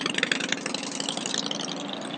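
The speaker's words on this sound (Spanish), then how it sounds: "Primera moto que veo. Tenemos que esperar a que pase porque si no te coja contra la luz. ¿Qué es, una Harley?" A Harley-Davidson motorcycle engine on Route 66 in New Mexico runs at a steady, close idle for a couple of seconds, with a throbbing low rumble and no talking over it.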